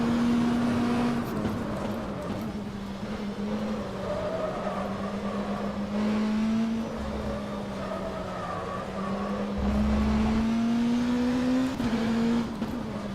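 Oreca LMP2 prototype race car engine in the rFactor 2 sim racing game, a steady loud drone that rises and dips with throttle and gear changes throughout, with no talk.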